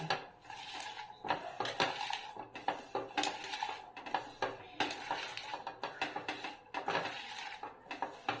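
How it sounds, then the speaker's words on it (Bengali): A spoon scrapes and clinks rhythmically against a bowl as salt is stirred into a Bengali prawn mixture, with repeated close strokes of moderate loudness and no talking. "এবার এটা একটু ভালো করে মিশিয়ে নেব।"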